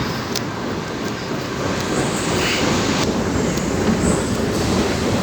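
A Sydney commuter train runs along the rails with a loud, continuous rumble and rattle of wheels heard from inside the carriage, steady throughout.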